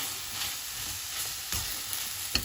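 Beef and flour being mixed in a frying pan for Goan beef moll, giving a steady, fairly quiet sizzle with a few soft scraping clicks from stirring near the end.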